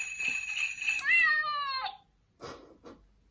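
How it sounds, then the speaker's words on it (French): A pet cat named Marie lets out a drawn, loud meow with a falling tail, followed after a pause by a couple of faint shorter bursts of sound nearby. "Et Marie, elle miaule et elle ronronne."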